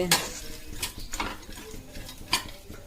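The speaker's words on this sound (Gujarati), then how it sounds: "કાજુ, બદામ છે, અખરોટ છે, ટોપરાનો ખમણ છે, તલ છે, બધું આપણે ઘીમાં શેકી લેવાનું છે" Cashews, almonds, walnuts, grated dry coconut and sesame seeds roast in ghee in a pan, with a few sharp utensil scrapes and stirring clatters over a soft low sizzle, nearby and without talk.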